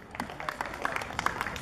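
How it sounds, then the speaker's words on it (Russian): An audience at a talent contest claps in a dense, steady patter of many hands, moderately loud and continuous, with a voice faintly mixed underneath. "Громче, громче хлопаем."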